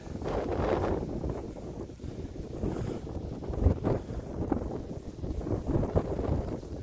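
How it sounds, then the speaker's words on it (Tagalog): Wind gusts across an exposed hilltop by historic military barracks overlooking Rangitoto and Auckland, a steady, buffeting roar with uneven surges that rumbles into the microphone throughout, with no voices. "Mahangin"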